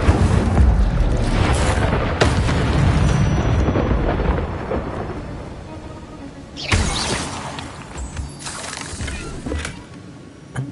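A fire spell cast in Hogwarts Legacy: a loud, rushing, roaring burst that fades gradually, followed by several sharper crackling flares and rumbles, close and without speech.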